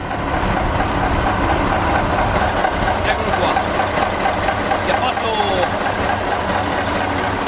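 An Iveco 190 F 35 truck engine idles with a steady low rumble throughout, while people talk over it.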